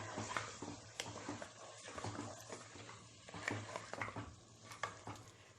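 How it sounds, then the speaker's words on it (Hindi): Meat frying in a pan with red chili powder while being stirred, making a constant close sizzle broken by repeated scraping stirs, with no talking. "नेक्स्ट इसमें डालिए 2 टीस्पून लाल मिर्च पाउडर। इसे भी भून लें अच्छे से।"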